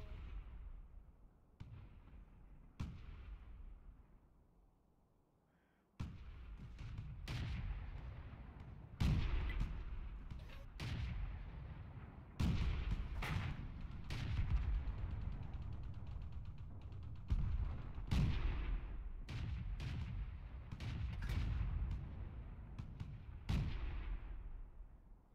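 Tank cannon fire in the World of Tanks video game: a long run of loud, sharp booming shots at irregular intervals, each followed by a rumbling tail, over continuous low battle noise after a brief quiet lull.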